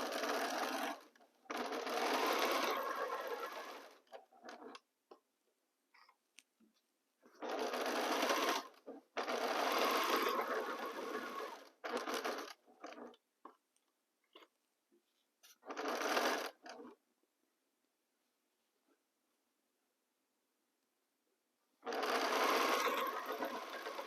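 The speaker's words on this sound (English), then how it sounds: "let's sew these 2 rows, a 1/4 inch seam allowance" A domestic sewing machine stitches two quilt rows together with a 1/4 inch seam in close, loud bursts of rapid mechanical whirring, broken by quiet pauses, with no talking.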